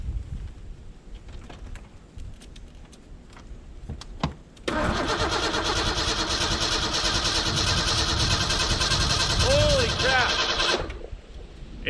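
An abandoned Ford Ranger left in the woods for years cranks briefly, then its engine catches and runs at a loud steady idle for several seconds before dropping off near the end.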